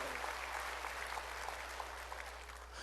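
A church congregation applauds during a sermon, a continuous, fairly even patter of clapping against a steady low hum, lasting a few seconds without pause.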